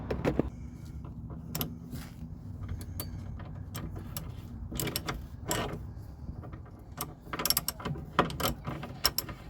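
A ratchet with a 1/2 inch socket loosens a suspension bolt on an old Vauxhall, giving close, quick bursts of clicking pawl ratchets separated by short pauses, with faint mechanical creaks.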